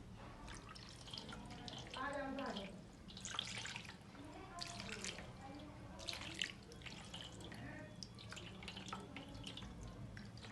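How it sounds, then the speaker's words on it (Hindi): Normal-temperature water is poured over a small Krishna idol during a bathing ritual, trickling and dripping steadily for several seconds, faint and close, with quiet talking underneath. "तो अब हम कुंज बाबू को नॉर्मल वाटर से नहलाएंगे।"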